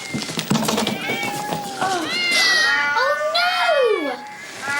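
Several cats meow in a row, loud and close, their drawn-out rising and falling cries overlapping with voices that seem to talk or mimic them throughout.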